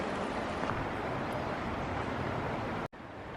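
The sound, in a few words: river water flowing below the trail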